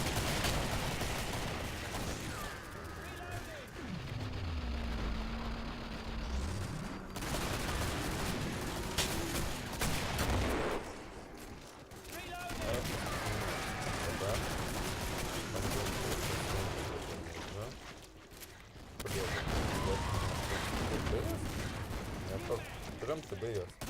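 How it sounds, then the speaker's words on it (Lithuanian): Automatic rifle fire in the Killing Floor video game comes as dense, sustained bursts of rapid shots over a busy, loud game soundscape, with a voice heard at times. "šitas ginklas šaudo, šitas vienas automatas"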